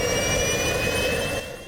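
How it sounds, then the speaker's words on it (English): Kerosene-fuelled jetpack driven by handheld jet engines, roaring as a loud, steady broadband jet blast with a high whine on top, easing off slightly near the end. "A jetpack powered by handheld engines."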